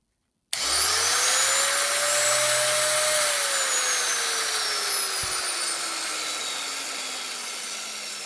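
A vintage 1980 AEG KS1.6 sheet metal shear motor starts abruptly and runs with a loud, steady high-pitched whine, then its pitch slowly falls as it spins down over several seconds, heard alone.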